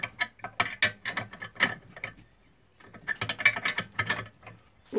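Ratchet wrench clicking in quick bursts while tightening a bolt on a car's lower control arm during a bushing replacement done without a press, close and fairly loud, with a pause midway.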